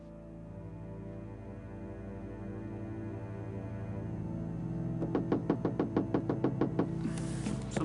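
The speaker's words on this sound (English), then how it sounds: "Somebody's at the door. That makes a knocking sound." In the Gabriel Knight 2 video game, a rapid run of about a dozen evenly spaced knocks on a door rises over a steady low electrical hum, fairly close and crisp.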